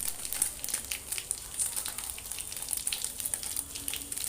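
Cumin seeds sizzle steadily in hot oil in a pan, a dense, crackly frying hiss with small popping bursts, moderately loud and close, with no talking.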